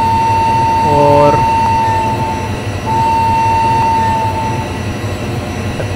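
A WAP5 electric locomotive, number 30052, hauls the Indore–Pune Express in a train simulator, its steady rolling rumble broken by a short stepped horn blast early and a long sustained tone later.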